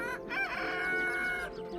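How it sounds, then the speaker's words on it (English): A rooster crows loud and close with a long drawn-out call, joined by other chickens outdoors on fresh grass, the crowing filling the whole moment without any talk. "our chickens are outside in fresh grass, they've got fresh air, sunshine."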